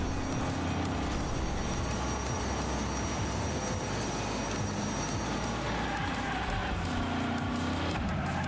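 Racing toy cars roar nonstop in Hot Wheels Unleashed, a dense engine whine with tires squealing through drifts, loud and continuous with game music underneath.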